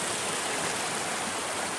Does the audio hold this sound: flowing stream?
yes